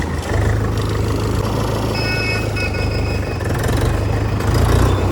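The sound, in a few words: Mahindra 475 DI tractor engine starting and idling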